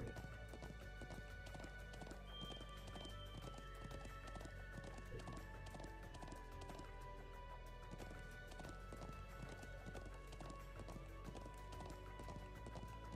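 Steady clip-clop of horse hooves at a run in the video game Trails of Cold Steel 2, a continuous rhythmic patter over game music, with a neigh rising above it.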